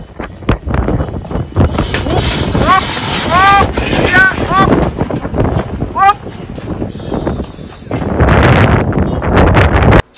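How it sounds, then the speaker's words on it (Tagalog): Strong outdoor wind gusts buffet the microphone with loud rumbling bursts near a government center, while people talk and shout over it and a brief whistle cuts through. "hinali na lang nga nagkusog ang hangin"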